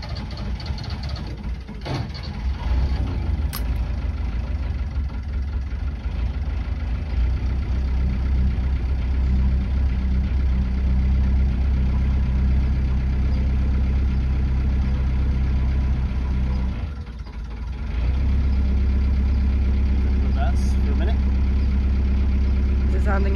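A narrowboat diesel engine idles in a steady low rumble, with one brief dip partway through and sparse talk nearby.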